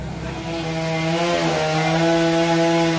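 Chainsaw cutting through a large Ba Dau tree trunk, a close, loud and steady engine whine held under load for the whole stretch with no break.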